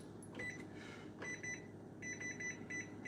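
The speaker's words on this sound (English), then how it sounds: "the key to me cooking, using my timers" Kitchen cooking timer beeping faintly in a home kitchen during a ribeye cook, with repeated short high electronic beeps in small clusters over low background hum.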